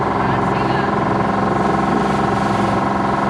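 Small outboard motor on a sailboat runs steadily on the water, a loud continuous buzzing drone with wind noise mixed in, close and unbroken.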